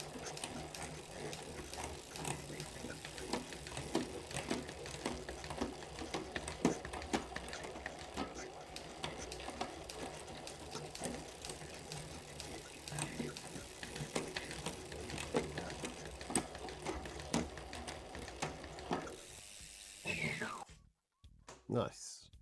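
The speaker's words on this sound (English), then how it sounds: "Let's just go through these rear gears because they're running so nice." Rear gears of a Trek bicycle with a freshly waxed chain spin and tick through the cassette, a steady close mechanical whir with ratcheting clicks that continues for about twenty seconds before stopping abruptly.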